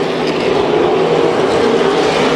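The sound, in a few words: super late model race cars racing at Las Vegas Bullring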